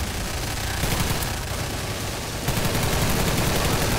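Gunfire in Garry's Mod, aimed at animatronic monsters, comes as a continuous loud, close volley of rapid shots with a brief slackening before a fresh burst picks up.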